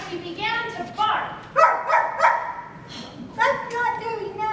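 Actor in a high school drama production imitating a coyote barking, a run of short, bright yaps and yips from a voice in sequence.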